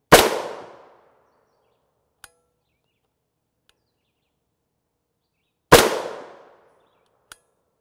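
Two sharp, loud gunshots from a 5.7 SS198 round fired into HWin NIJ Level IIIA soft body armor, each a sudden crack with a short decaying tail, separated by several seconds, with small faint ticks after each.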